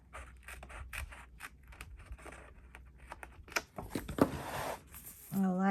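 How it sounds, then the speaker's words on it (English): Scissors snip through paper in a series of short, close cuts, followed by rustling and handling sounds. "I'll cut this off right down through here."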